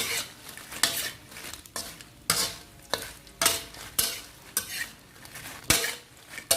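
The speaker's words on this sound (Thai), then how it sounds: "จากนี้ก็นำพริกลงไปคั่วเลยค่ะ ที่ไม่ลูกใส่น้ำมันลงไปด้วยเพื่อให้พริกของเขาขึ้นสีสวยนะคะ" Dried chilies being dry-roasted with a little oil in a pan over medium heat, with repeated scraping and stirring strokes of a utensil against the pan roughly every second, close and clear, under a light sizzle.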